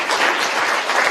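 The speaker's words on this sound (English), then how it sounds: "thank you for that huge round of applause" Loud, dense audience applause fills a hall at a TEDx event at Erasmus University Rotterdam, a brief continuous burst of many hands clapping together.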